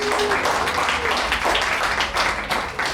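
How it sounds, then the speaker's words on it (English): Audience at a farewell gathering applauding as a choir is welcomed in, loud dense clapping throughout with slight swells and a brief dip near the end. "Let's welcome them with a round of applause"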